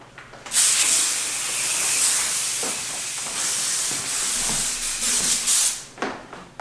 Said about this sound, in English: I have white pumpkin room fragrance, and you're just gonna spray the crap out of your room